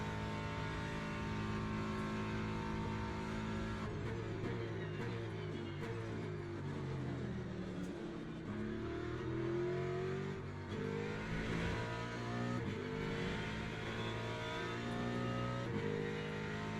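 Race car engine in the Le Mans Ultimate racing game, a steady, continuous drone of revving and shifting pitch that holds throughout at even volume, with no pauses.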